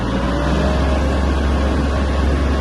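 A Kubota GL-25 mini tractor's engine drones loud and close as it gathers speed, a dense, steady rumble with no voices over it.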